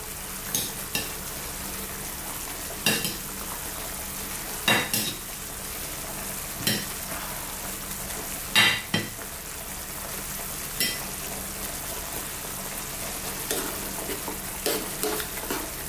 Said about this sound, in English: It's at this point now we're going to add in our meatballs.